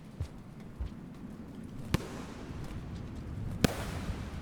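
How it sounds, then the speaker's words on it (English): Rare artillery-like explosion sounds from the video game Rain World, two sharp distant booms about two seconds apart over a low rumbling ambient background, with softer thumps earlier. "I love that really rare arty like explosion sound that just like really lovely."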